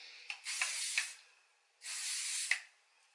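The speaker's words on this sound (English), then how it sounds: "I'm just going to take some light hold or flexible hold hairspray" Light hold hairspray sprayed onto hair from an aerosol can: two soft, close hissing bursts, the first broken into several short pulses and the second a steady spray lasting under a second, with quiet gaps between.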